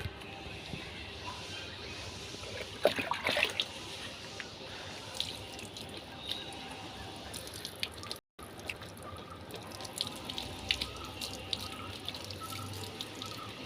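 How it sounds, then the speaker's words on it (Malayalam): Water splashes and trickles steadily at close range, with drips and light running flow throughout and a brief dropout midway. "നന്നായിട്ട് വെള്ളം ഒഴിക്കാം അദ്ദേഹത്ത്"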